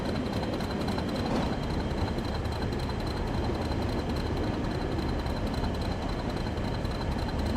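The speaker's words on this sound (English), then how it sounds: "As I get hit by a green train going past the other way" A green train rushing past the other way in Train Sim World on the West Coast Main Line, heard from a Class 40 'Whistler' cab as a steady, loud rumbling roar with a sharp whoosh early on.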